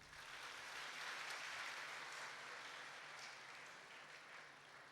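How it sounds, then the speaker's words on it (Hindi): Steady, dense applause from a large audience of new students at an institute's welcome function, sustained for the whole stretch with no voices over it. "सबसे पहले अपने लिए ताली बजाइए आप लोग।"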